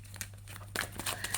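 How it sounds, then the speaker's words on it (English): Tarot cards being shuffled, a run of crisp papery riffles and slaps that starts sparse and grows denser, close and fairly quiet over a steady low hum. "But now let's get ready to shuffle."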